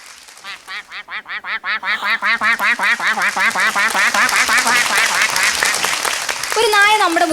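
A mimicry artist on stage voices a duck. Rhythmic nasal quacks start softly and grow louder and quicker, repeating in a steady stream and ending in a drawn-out call.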